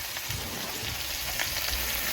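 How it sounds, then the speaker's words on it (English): Tomatoes sizzle and crackle steadily in a hot pan, a dense, even frying hiss with small pops scattered throughout. "Now those are really frying."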